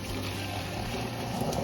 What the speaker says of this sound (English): pour this into a little strainer